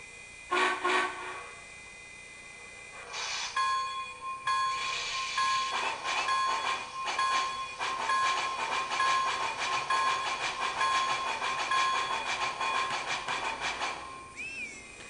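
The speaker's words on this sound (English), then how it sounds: "There's the sound demonstration review of the MTH HO Big Boy" An MTH HO scale Big Boy model steam locomotive sounds off with a loud sustained multi-tone whistle blast, then rhythmic chuffing and running noise under repeated whistle toots, close and steady for about fifteen seconds.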